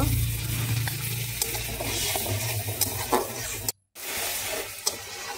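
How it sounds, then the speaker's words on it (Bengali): Spice paste for a fish curry sizzles in hot oil while a spatula stirs it, a close crackling hiss with scraping strokes that cuts out for a brief moment before resuming. "এবার আমি মশলাটাকে ভালো করে কষিয়ে নেব।"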